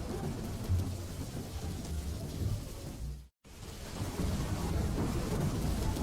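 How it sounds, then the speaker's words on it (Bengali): Heavy rain pours down with low rolling thunder, a dense steady wash of rainfall and deep rumbles that cut out briefly, then the downpour resumes just as strong, with no voices. "এই রে, আজ বৃষ্টি দেখছি খুব বেড়ে গেছে।"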